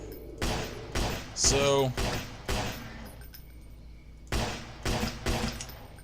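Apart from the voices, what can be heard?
gunshots in Zombie Apocalypse video game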